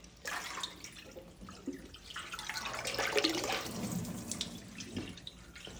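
Water runs and splashes from a pot as a turkey is lifted out while marking a water line before a turkey fry, a steady rushing pour with trickling that swells midway and eases toward the end.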